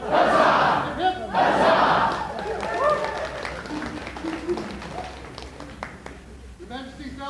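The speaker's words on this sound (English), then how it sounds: "cheer gaily. Hip hip! Huzzah!" A crowd at an evening coronation court in the Outlands shouts a loud "huzzah" in two strong bursts, then settles into murmuring voices and scattered shuffling.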